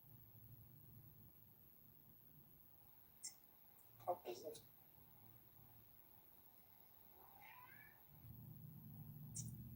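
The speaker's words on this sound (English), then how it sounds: "I heard a cat." A hungry house cat meows a few faint times in the background of a quiet room, brief yowls spread over several seconds with low murmuring nearby.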